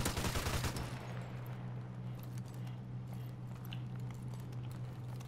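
An RPD machine gun in Modern Warfare fires a loud, rapid burst at the start, then a steady hum with scattered faint distant shots and game noise.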